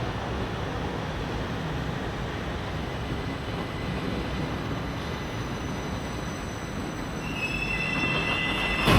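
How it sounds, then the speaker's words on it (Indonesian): A light rail train bound for Harjamukti rolls into platform 1 at an LRT station with steady rumbling and metallic wheel squeal, growing slightly louder toward the end as it nears. "kereta tujuan Harjamukti akan memasuki jalur 1"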